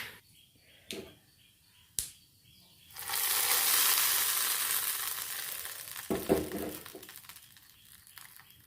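Hot oil tempering with curry leaves poured into a coconut-free chutney, first a few sharp ticks, then a sudden loud sizzle that fades slowly, with a brief crackling burst near the end.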